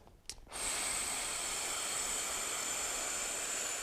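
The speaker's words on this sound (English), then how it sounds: "we exhale through a small straw-sized hole in the lips and it's slower" A short intake of breath is followed by a slow, steady exhale through a small opening in pursed lips. The long, even airy hiss sounds close and soft.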